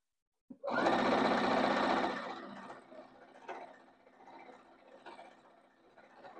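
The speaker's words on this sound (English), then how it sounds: "dropping my presser foot, getting over some of those initial seams at the front end" Sewing machine stitching across the thick seams of an up-cycled denim jeans quilt, a loud steady run for about a second and a half, then slower, quieter bursts of stitching as it works over the seams.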